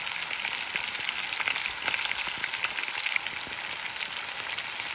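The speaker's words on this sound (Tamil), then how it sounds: "நீங்கள் இந்த வெங்காயத்தை அப்படியே வதக்கணும்" Sliced onions frying in oil for Hyderabadi-style chicken biryani, giving a dense, even sizzle that stays close and fairly loud, with small crackles and no voices.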